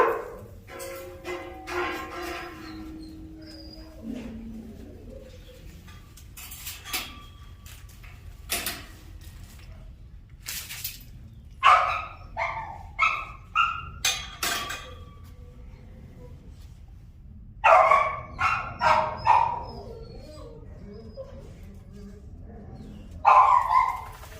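Dogs bark in a muzzled dog-aggression session, sharp barks coming in quick clusters with pauses between, moderately close, along with some faint clinking and background noise.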